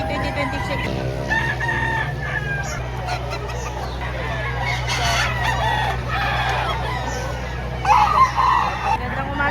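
Roosters crow repeatedly at the Padre Garcia livestock auction market in Batangas, several loud calls rising over clucking chickens, a steady low hum and a background murmur of people talking.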